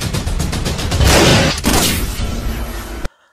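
Rapid bursts of loud gunfire crackle in quick succession, close and harsh, before stopping abruptly into silence.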